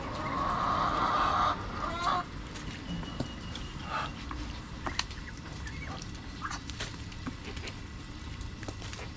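Ducks in a backyard pen call out, with a loud burst of squawking at first, then scattered quacks and honks over a busy, noisy background.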